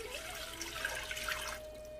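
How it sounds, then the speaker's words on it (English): Water poured into a cooking pot on a stove, a steady close splashing stream that stops abruptly near the end. "I'm going to add my water."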